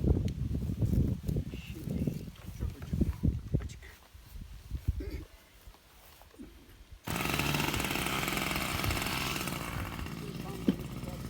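A two-stroke engine is started and then runs with a steady, buzzing drone, preceded by talk and clattering handling noises before it catches and holds a constant loud note.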